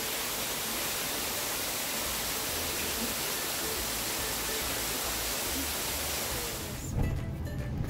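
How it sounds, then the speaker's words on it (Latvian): Loud, continuous rushing roar of falling water, dense and steady throughout, cutting off briefly near the end. "kārtīgs ūdens kritums."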